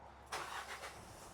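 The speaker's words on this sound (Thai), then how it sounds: "เครื่องฟิตสตาร์ตติดง่ายนะครับเครื่องเดินนิ่มๆ" A 2018 Isuzu NLR130 four-wheel truck with a three-sided open cargo bed cranks and fires up in a short burst, then settles into a steady, smooth idle close by.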